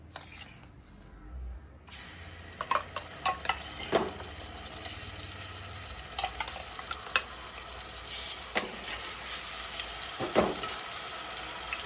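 Onion paste fries in hot oil for mutton pulusu while a spoon scrapes and clinks against the pan in irregular bursts over a continuous sizzle, nearby, with no voices.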